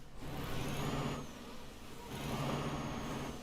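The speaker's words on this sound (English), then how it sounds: "So what does this truck sound like on the outside?" DAF XG truck in Euro Truck Simulator 2 heard from outside, a steady mid-range diesel engine drone with two louder swells, alone without talk.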